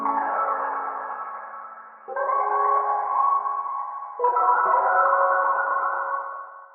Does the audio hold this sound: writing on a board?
no